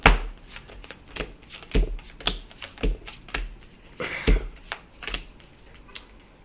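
Tarot cards being shuffled by hand, a run of crisp riffling slaps and clicks in uneven bursts, close and fairly loud with no talking.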